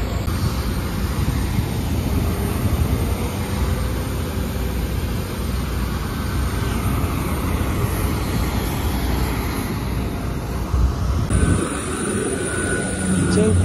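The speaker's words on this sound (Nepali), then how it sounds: "एउटा प्लेन उडेर गयो" An airplane taking off from a Nepal airport, a steady broad engine roar carrying through the whole stretch at moderate distance, with faint background voices.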